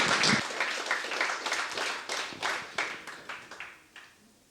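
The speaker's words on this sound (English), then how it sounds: "Let's give a round of applause for John." At a Tezos developer conference in Paris, the audience gives a round of applause for a speaker: a burst of clapping that fades steadily over a few seconds into scattered, dwindling claps.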